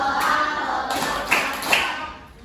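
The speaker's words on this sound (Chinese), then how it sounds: "圈起来的地方请拍手" Students in a fifth-grade Taiwanese-language class clap their hands along to a song's rhythm, a few sharper claps standing out over steady background sound and faint voices.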